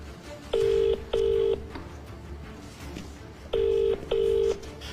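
Telephone tones sound as the chief minister places a call: two pairs of loud, steady electronic beeps separated by a short gap, over faint room noise with no talking.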